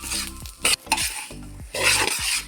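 Grated coconut for chammanthi podi rustles and scrapes as it's stirred and roasted in a hot pan, with intermittent sizzling and metallic spoon clinks, no voices.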